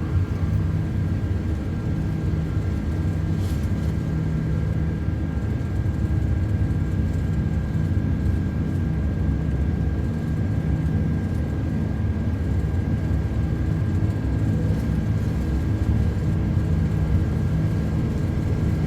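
Airbus A330 engines at takeoff thrust in a flight simulator: a steady, loud, broadband jet roar that holds evenly throughout, with a faint high whine running over it.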